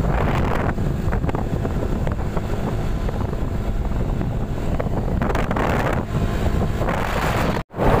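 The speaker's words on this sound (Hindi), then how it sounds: "हवा बहुत बढ़िया चल रहा है" Heavy wind noise buffets the microphone while riding a motorbike on an evening road, a loud, continuous roar with gusting swells and a brief dropout near the end.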